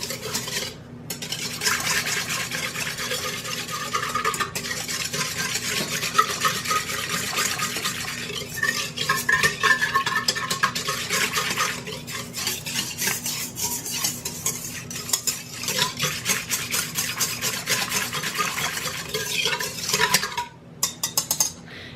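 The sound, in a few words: whisking warm milk, water, sugar and yeast in bowl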